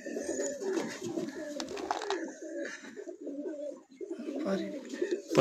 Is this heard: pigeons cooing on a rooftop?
yes